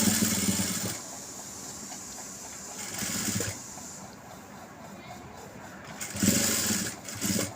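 A sewing machine stitches elastic onto a nightie in three short whirring bursts, with quiet pauses between runs.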